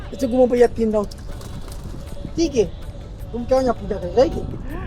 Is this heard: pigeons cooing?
yes